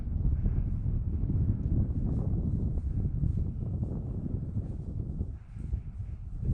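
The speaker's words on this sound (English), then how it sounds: "I'm out here on a day when it's a little breezy." Breezy outdoor wind buffets the microphone while an electric brushless powered glider flies, a continuous low rumbling roar that is loud and unbroken apart from one brief lull.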